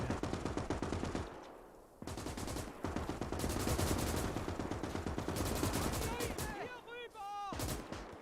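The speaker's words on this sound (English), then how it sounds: "is that damn annoying Maxim machine gun again?" A Maxim machine gun firing in the WWII video game Gates of Hell, set in trench defenses during Operation Barbarossa: loud, dense, sustained bursts of rapid fire with brief pauses and some whistling sounds near the end.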